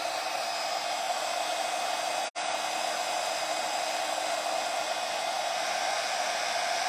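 A heat tool blows hot air onto a craft piece in a steady, loud, close whoosh with one brief break, and no one speaks.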